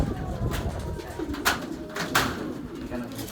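Homing pigeons in a breeding loft, soft low coos with a few sharper bursts, close by and moderately loud.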